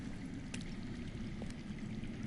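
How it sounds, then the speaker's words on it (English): Underground water flowing in a Game of Thrones video game, a low steady rushing stream sound that stays constant throughout, with faint ticks on top and no talking. "That's water. I hear water. From underground."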